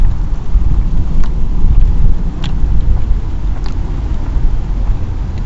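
Rain pours in a London park, a loud, dense and steady wash without speech.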